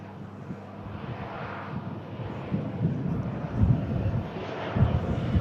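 A Pegasus airliner's engines give a low, steady rumble at the airport, with a few deeper surges and a touch of wind buffeting the microphone, and no speech over it.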